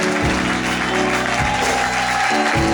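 A church congregation applauds and cheers for Jesus during a Sunday worship service, with loud continuous clapping and voices filling the room throughout, close and dense.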